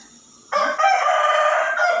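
A rooster crows loudly and close by after a brief quiet moment, one sustained call that runs to the end.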